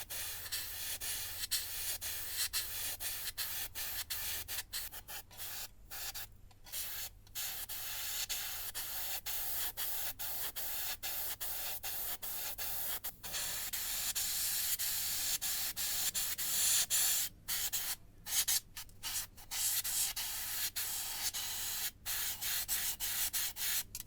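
Continuous airbrush hiss as primer is sprayed into the bomb bay and nose wheel bay of an Airfix 1/72 Avro Vulcan B.2 model kit, steady and close with frequent brief stops and restarts.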